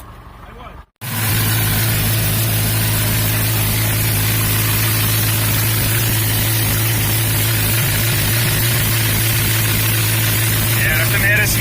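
A swapped 5.0 engine cranks briefly, then settles into a steady, loud, close idle with a constant low drone, while people talk over it.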